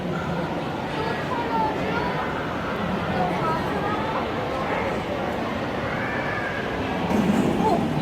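Model train running through a tunnel layout in the Chicago science and industry museum, a steady rumbling rail clatter with crowd murmur around it, brief wheel squeal near the end.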